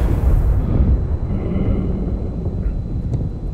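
A large explosion in the Halo Infinite campaign, a deep, loud rumbling blast that fills the opening second and then settles into a sustained low roar, with faint higher debris noise drifting over it.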